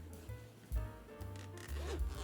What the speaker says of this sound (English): Check the zipper.